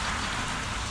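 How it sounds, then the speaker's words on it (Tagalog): Light drizzle falls over a backyard garden, a dense, even patter of fine drops close by that hisses steadily with no voices. "dahil umaambon na naman mga katunying"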